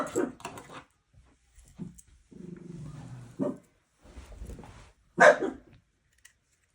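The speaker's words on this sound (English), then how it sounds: "That's my dogs. They're in my room, in my sewing room." Dogs in a sewing room let out several sharp barks and a low growling stretch, close by and interspersed with quiet gaps.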